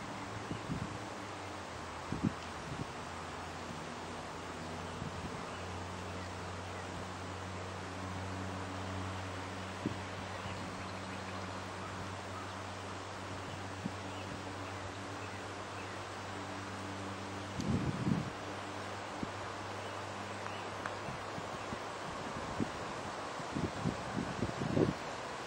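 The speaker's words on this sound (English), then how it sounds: "Hear the wind blowing." Wind blows steadily outdoors in a broad, continuous hiss with faint low rumbling, occasional soft gusts and rustles, and distant steady hum underneath.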